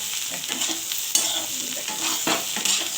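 Teasel gourd and potatoes fry in a pan, giving a continuous close sizzle with occasional soft stirring scrapes and a brief louder crackle partway through.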